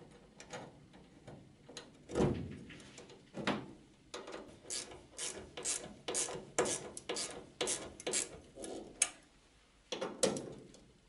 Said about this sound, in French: Un petit coup de serrage.